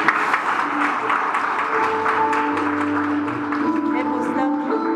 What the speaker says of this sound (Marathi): जोरदार टाळ्या होऊ देत.